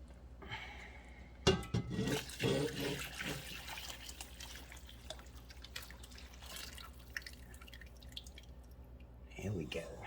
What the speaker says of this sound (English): I'm going to add the stock.